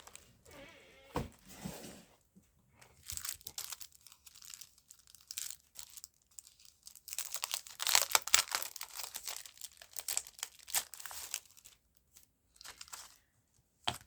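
Rustling through items in a craft supply bin, irregular bursts of crinkling, scraping and rummaging, close and fairly quiet, with pauses between handfuls.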